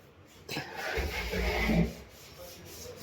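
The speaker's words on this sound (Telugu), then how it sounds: "ఇప్పుడైతే పాలిష్ అయితే వేస్తున్నారు" Polish is rubbed onto wooden furniture by hand, a soft brushing swish lasting about a second and a half, moderately close with quiet room noise around it.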